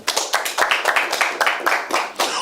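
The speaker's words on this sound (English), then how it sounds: "A round of applause." A studio audience at a Nigerian accountancy quiz show breaks into brief applause, a burst of sharp, uneven hand claps lasting a couple of seconds, fairly close and with no speech over it.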